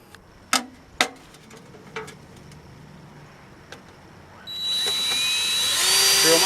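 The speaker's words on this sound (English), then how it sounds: "drill my first hole." A power drill boring a hole, likely into the body of a 1941 wood burning stove, starting with a few sharp clicks and taps, then a steady high drilling whine that runs alone and close to the end.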